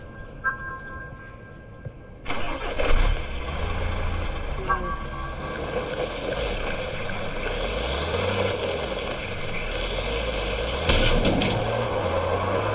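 A pickup truck engine in the Roblox game Pacifico 2 starts up abruptly after a quiet stretch, then revs and drones with rising and falling pitch sweeps, fairly loud and close.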